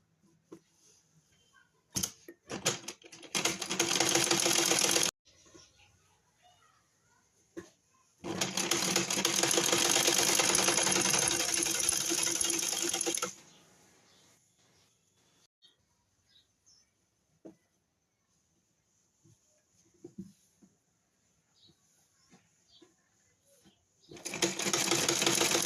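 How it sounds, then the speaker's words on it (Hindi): Sewing machine stitching a trouser, three separate bursts of rapid mechanical chatter, each a few seconds long, separated by quiet stretches with faint handling clicks. "अब इस पे हम इधर से सिलाई लगा लेंगे"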